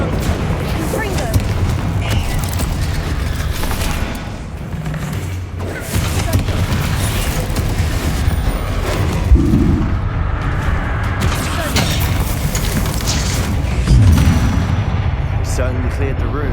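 Fiery Confringo blasts in the Hogwarts Legacy video game, a dense run of booming, crackling explosions stacked over the game's score, with voices talking throughout the combat.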